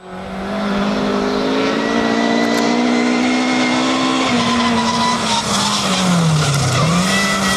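An old rally car races flat out on a fast, rough stage of the Algoa Rally 2024. Its engine howls loud and close, rising and dipping in pitch as it shifts, with tyres squealing and skidding through a corner near the end.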